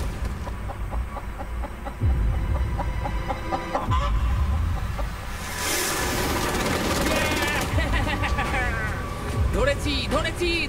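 A chicken clucks repeatedly near the listener, its calls breaking through and overlapping with excited voices and background noise.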